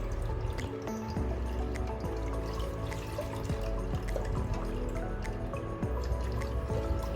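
Ragi papad batter strained through cloth, liquid dripping and trickling steadily into a vessel at close range with soft wet squishes, no talking.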